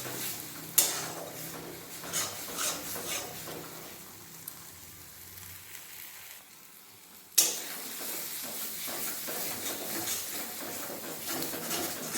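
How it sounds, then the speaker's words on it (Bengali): Spice paste with salt and water fries in a pan, giving a continuous close sizzle that surges sharply twice as liquid hits the hot pan, with stirring scrapes beneath. "লবণ দিয়ে দিলাম জল দিয়ে মশলা ভেজে নেবো"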